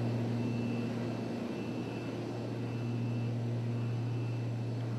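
Small propeller plane on a flight to Attawapiskat in remote Northern Ontario, a steady loud cabin drone with a constant low engine hum that fills the whole stretch without pause.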